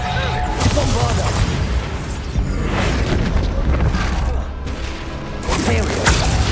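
A Bombarda spell explosion in Hogwarts Legacy rings out amid combat, with repeated loud booms and crashing bursts layered over spoken spell incantations.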